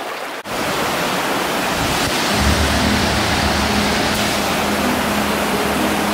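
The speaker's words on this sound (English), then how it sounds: "This is a substantial waterfall." A substantial waterfall in the Nova Scotia woods roars as a steady, loud, broadband rush of falling water that fills the whole stretch with no voices.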